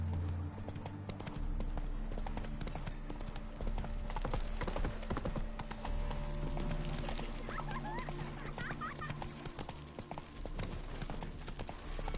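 Roach the horse gallops in The Witcher 3, with a rapid, steady clip-clop of hooves running continuously and close over a constant game ambience.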